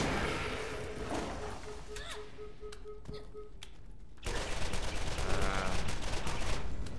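Video-game gunfire in Borderlands, with a few sharp scattered shots early, then a loud rapid burst of firing in the last few seconds, over background game sound and talk.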